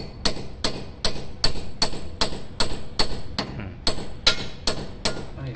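Steady hammer blows, about a dozen evenly spaced sharp metallic strikes, ring out close by while an old air conditioner is being installed.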